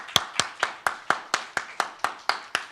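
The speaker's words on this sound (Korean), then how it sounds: "우리 다 함께 박수로 우리 주님께 영광의 박수 한번 올려드릴까요?" A church congregation claps together in steady unison, about eleven sharp, evenly spaced claps in under three seconds, loud and close with no talking.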